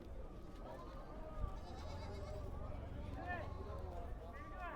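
Goats bleat a few times amid a steady noisy din at a goat market, with people talking in the background.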